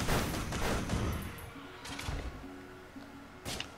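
Turret gunfire in the Risk of Rain video game, a rapid burst of shots at first, then lighter scattered firing over steady tonal game sounds and music.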